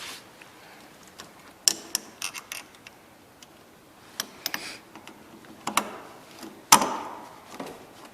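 Screw being driven into a Brinks high security house door lock, heard as a series of scattered mechanical clicks, ticks and ratcheting taps at close range, with a few sharper knocks and no talking.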